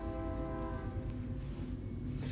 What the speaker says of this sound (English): Can you hear that train coming?